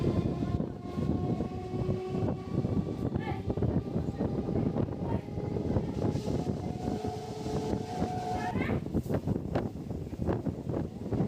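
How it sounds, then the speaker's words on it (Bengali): A local train pulls out of Baghajatin station on the Sealdah–Canning line. It rumbles and clatters steadily throughout, with faint tonal squeals, and sharp clacks come near the end. "বাঘাযতীন থেকে ট্রেনটা যখন ছেড়ে পরের স্টেশনের দিকে রওনা দিচ্ছিল ট্রেনটা"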